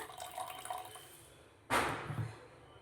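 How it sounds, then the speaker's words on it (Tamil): Rice-soaking water is poured into a cooking pot for vegetable biryani, a light trickle and drips giving way to a sudden fuller splashing pour that fades out, close and fairly quiet. "இந்த ஒன்றரை டம்ளர் தண்ணியை நான் அரிசியை இருத்துட்டு தண்ணியை மட்டும் சேர்க்குறேன்"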